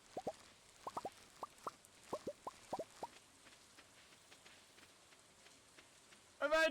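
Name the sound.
rain falling in Stardew Valley video game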